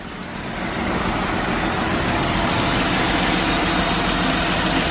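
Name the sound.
Dodge Durango engine idling with faint knock tick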